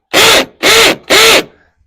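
A hammer drill bores into a brick wall with a fresh bit, three loud, close bursts of grinding hammering, each about a third of a second long with short pauses between, and no talking.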